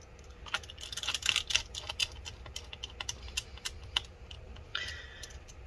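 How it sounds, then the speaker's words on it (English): Small screws are fitted back into an HP Pavilion x360 m3 convertible laptop during a battery replacement, giving light, irregular clicks and tiny metallic ticks, close up and quiet, with brief scraping taps. "now we're gonna go ahead and put back all the screws that were holding the battery in place"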